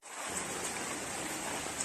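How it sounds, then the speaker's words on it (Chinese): Heavy rain pours over a street market, an even, dense hiss filling the brief clip with no talk. "现在下了很大的雨"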